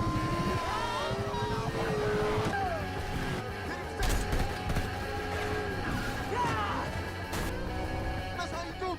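Cars roar through a police chase scene from the film Baby Driver, engines revving and tyres whining steadily, with sharp impact hits midway. A narrator talks over the action.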